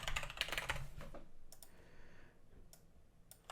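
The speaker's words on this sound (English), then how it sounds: "type in password" A password goes in on a computer keyboard, a quick flurry of close key clicks followed by a few isolated taps, faint and with no voices.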